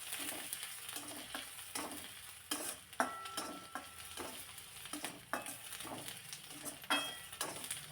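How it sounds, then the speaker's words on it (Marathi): Garlic is added to onions already frying in oil for a fenugreek-leaf vegetable dish, giving a steady close sizzle broken by repeated scrapes and clinks of a spoon stirring in the pan, with no talk. "थोडासा कांदा परतून घेतला आणि त्यानंतर मग यामध्ये लसूण घालायचं आहे"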